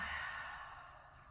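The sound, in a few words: exhaling breath during yoga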